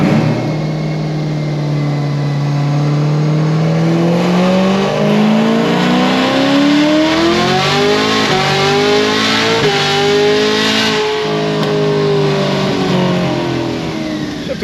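A Chevrolet Camaro ZL1 on stock tires accelerates hard from about 68 to 145 mph, its engine note climbing loud and close through the gears with brief dips at the shifts, no talking.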